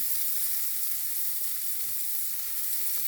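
Fresh vegetables such as cauliflower and green beans are pan-seared until browned, giving off a continuous, even, close sizzle with no voices over it.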